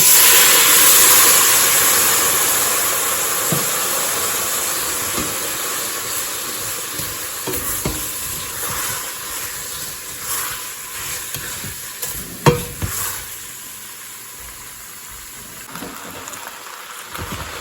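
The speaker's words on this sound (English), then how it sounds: "you just want to deglaze it using either beer or red wine" Browned beef for stew is deglazed with beer or red wine, making a loud hiss that slowly fades, with stirring scrapes and one sharp clatter near the end.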